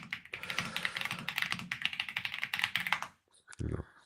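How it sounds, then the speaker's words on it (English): Fast, steady clatter of typing on a Royal Kludge computer keyboard, close and dense for about three seconds, then a short pause and a brief thump of a final keystroke or tap. "What keyboard do you have?"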